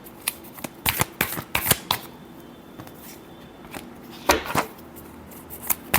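Tarot cards are shuffled by hand in repeated quick riffling bursts with short pauses between them, close and crisp, with no voices.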